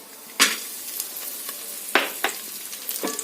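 Raisins frying in ghee sizzle steadily, broken by a few sharp scraping, sputtering bursts from the spoon stirring them in the hot pan.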